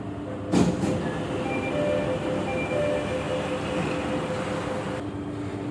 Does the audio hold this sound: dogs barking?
no